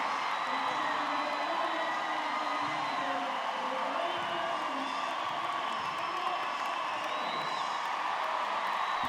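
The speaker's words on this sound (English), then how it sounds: "Listen to that crowd." Crowd at an international show jumping event cheers and whoops loudly after a winning round, a sustained, dense roar of voices with scattered shouts and some clapping throughout.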